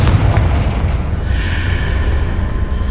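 A Confringo explosion spell cast in the game Hogwarts Legacy lands as a deep, rumbling boom with crackling bursts that fade out over a few seconds, with no talk.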